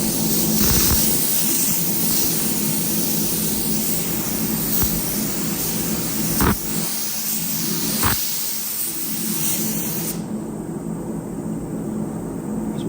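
A spray gun lays down a coat of Eastwood 2K automotive primer with a steady, loud hiss of compressed air for about ten seconds, with a few sharp clicks along the way, then cuts off into near silence.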